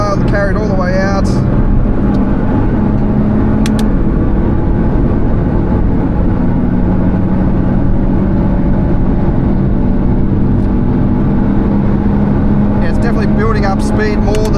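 A Hyundai N hatchback accelerates out of a corner on the Nurburgring, its engine a steady, close droning hum with rising tone, heard under someone talking throughout.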